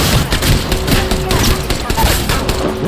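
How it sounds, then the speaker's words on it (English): Rapid gunfire from Apex Legends rings out in a dense, continuous barrage of overlapping shots, loud and close throughout with no pauses. "Uh-oh, they're shooting at me."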